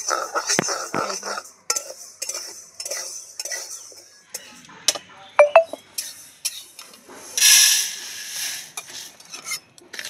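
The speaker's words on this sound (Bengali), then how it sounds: "মুগ ডালটা একদম হালকা করে ভেজে নিতে হবে" Mung dal being lightly dry-roasted in a pan, with repeated scraping and clinking of a metal spoon against the pan in irregular bursts, plus one brief hiss.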